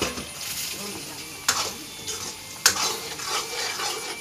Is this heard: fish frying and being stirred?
yes